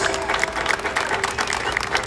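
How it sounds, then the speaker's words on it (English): Audience clapping at an outdoor Palestinian flag raising ceremony in Paterson, New Jersey, a continuous round of applause with distinct individual claps standing out, moderately loud throughout. "give them a rousing, riveting, and robust round of applause."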